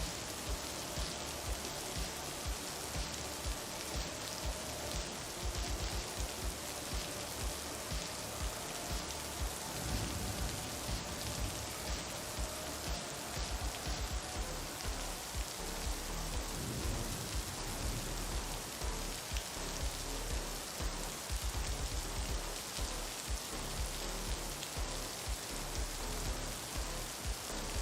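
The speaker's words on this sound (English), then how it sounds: "the sizzling sound you hear is rain ambiance." Steady rain plays as a background ambience track during a relaxed livestream, a dense, even hiss with crackles of drops striking a surface, continuous and unchanging throughout with no voices.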